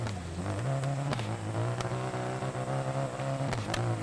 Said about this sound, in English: Oh yeah, engine's really having some issues now.